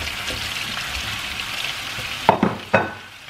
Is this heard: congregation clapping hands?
no